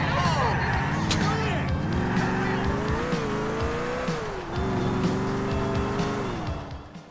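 A car driven in Grand Theft Auto IV hums along steadily, its engine pitch gliding up and down with acceleration, with faint tire noise and city sounds around it and a voice talking over the top.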